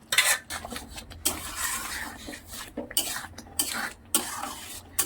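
Moong dal frying in a pan with repeated scraping and clinking stir strokes, a soft sizzle underneath and bursts of utensil contact against the metal, close by with no talk.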